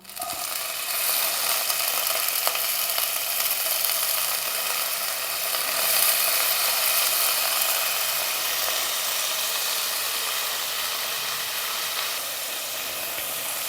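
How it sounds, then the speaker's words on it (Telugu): Soaked dried prawns sizzle in hot oil while frying for a brinjal curry, a loud, steady crackling hiss that fills the whole stretch without pause, swelling slightly in the middle, with no voices. "ఆయిల్ వేడైంది కాబట్టి మనం ముందుగానే నానబెట్టుకున్న ఈ ఎండు రొయ్యల్ని ఈ ఆయిల్లోకి వేసుకుందాం."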